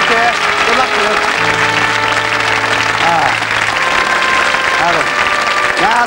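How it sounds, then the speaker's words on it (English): Loud applause from a television game show studio audience fills the room, with music or voices sounding faintly beneath the clapping. "Give them a round of applause,"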